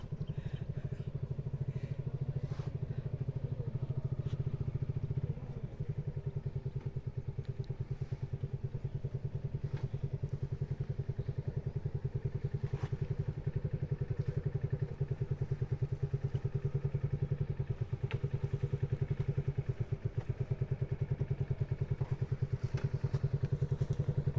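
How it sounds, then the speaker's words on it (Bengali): A motorcycle rides along a path through a tea garden, its engine a steady, close, low drone with a rapid throbbing pulse that barely changes, mixed with faint rattles and thumps. "চা বাগানের ভিতর দিয়ে মোটর সাইকেল আনতেছি"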